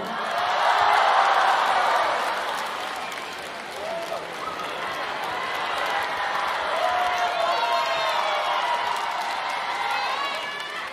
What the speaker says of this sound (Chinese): 谢谢现场的朋友们热情掌声